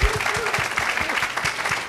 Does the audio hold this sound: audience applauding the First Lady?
yes